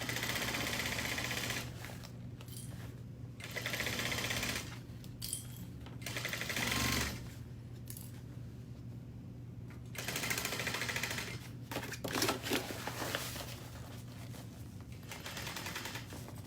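A sewing machine stitches a business bag, running in fast rattling bursts that start and stop, close and fairly loud over a constant low hum.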